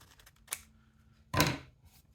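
Scissors cutting folded paper for a small Christmas tree bunting craft: a brief snip followed by a louder, longer single cut, close and quiet, with no talking.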